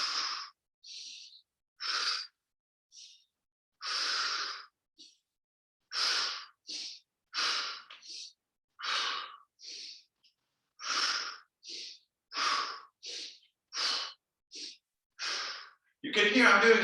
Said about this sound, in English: You can hear I'm doing a little bit more power breathing